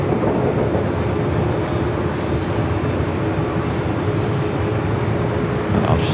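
An airliner departing LAX for Mexico City gives a steady, loud broadband roar that holds evenly throughout, with a brief extra burst near the end.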